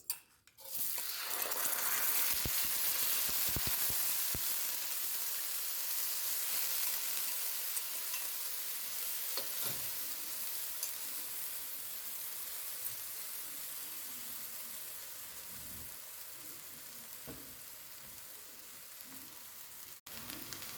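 Rice frying in oil in a pan for Guyanese-style shrimp fried rice, a loud steady sizzle that holds throughout with a few faint scrapes and clicks underneath.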